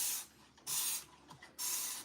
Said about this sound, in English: It's Dawn Platinum Plus Power Wash Dish Spray.